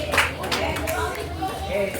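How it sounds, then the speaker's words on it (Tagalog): An audience at a school cosplay event claps in a diffuse, continuous wash, with chatter and voices blending in over the clapping. "Palakpak, palakpak."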